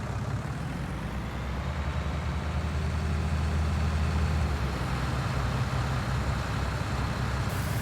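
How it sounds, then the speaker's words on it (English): Tractor engine in the video game Farming Simulator 19, a steady low rumbling drone that holds at an even level throughout, with no voices over it. "Hop in our tractor."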